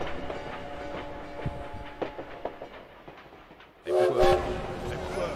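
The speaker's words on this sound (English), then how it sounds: "At the train depot in Paris" A train at a Paris depot in the World War I video game Valiant Hearts gives off rhythmic rail clatter and a steady hum, then a loud horn blast sounds near the end.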